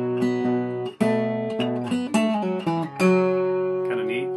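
Acoustic guitar plays a boom-chugga pattern from a song, alternating bass notes with strummed chords in a bouncing rhythm, close and solo without speech.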